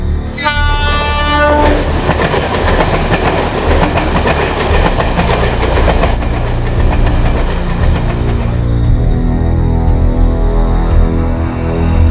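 A train rolls loud and close through the Jogeshwari rail yard, opening with a blaring horn and followed by continuous heavy rumble and clattering wheels that gradually ease off near the end.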